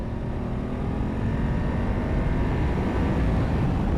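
A BMW F850GS motorcycle accelerates hard in 4th gear with a loud, continuous engine drone and wind roar close to the rider, sustained at a steady level and free of speech.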